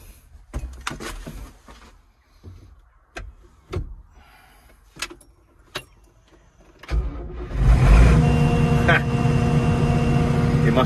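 A combine harvester's engine cranks and catches after a battery boost, first with scattered clicks and knocks, then rising into a loud, steady running rumble that continues to the end.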